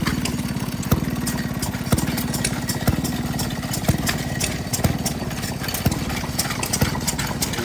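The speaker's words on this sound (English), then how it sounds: "we got some Maytags, single cylinders, running really nice" Several Maytag single-cylinder engines run together at an antique power show, giving a rapid, even chugging with a louder thump about once a second, loud and steady throughout.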